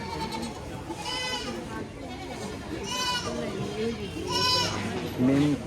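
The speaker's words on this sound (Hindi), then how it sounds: "बकरी का बाजार।" Goats bleating at a weekly goat market in Karbi Anglong, India, with repeated wavering bleats from several animals over a busy background of people talking nearby.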